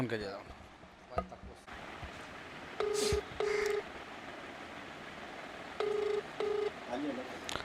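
Telephone dialing tones ring out as a call is placed on a phone, two pairs of steady beeps repeating in a short pattern, moderately loud over faint background noise.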